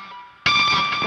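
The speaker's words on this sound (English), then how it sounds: "I hit just behind the nut" Electric guitar string struck just behind the nut on a guitar with no whammy bar, a faint ringing tone suddenly jumping into a loud, bright, sustained metallic chime with a distorted shimmer.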